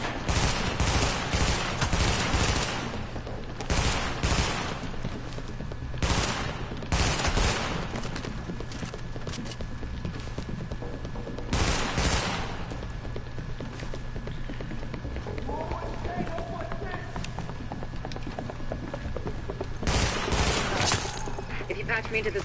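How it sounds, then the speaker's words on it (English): Rapid burst-fire gunshots from a rifle in The Division ring out in repeated short volleys, loud and close, mixed with a steady hum and scattered background gunfire, with a voice speaking partway through. "this is a burst fire"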